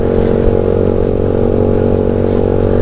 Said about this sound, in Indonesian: rantainya itu berisik cuy